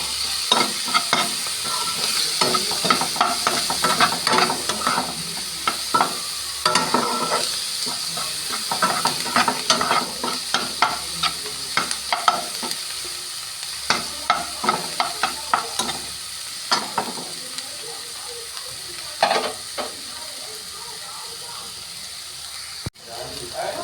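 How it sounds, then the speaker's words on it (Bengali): Chicken with chilli and coriander being stirred in a hot pan, giving a constant sizzle and hiss broken by repeated scraping spoon strokes in an irregular rhythm. "দিয়ে ভালো করে নেড়ে নেব।"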